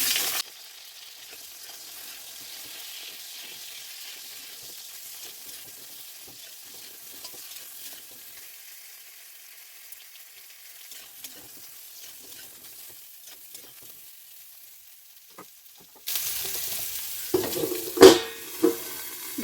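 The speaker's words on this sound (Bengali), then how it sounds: "এবারে বেগুনগুলো লাল লাল করে ভেজে নেব।" Brinjal slices fry in mustard oil in a wok with a faint, distant sizzle for most of the time. A louder burst of sizzling and stirring follows near the end, with no voices.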